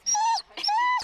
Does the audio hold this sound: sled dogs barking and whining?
yes